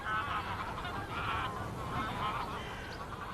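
Wild geese honking at Lake Neusiedl, a reed-fringed migratory stopover, with a flock calling in overlapping, repeated honks at moderate distance, a busy continuous chorus throughout.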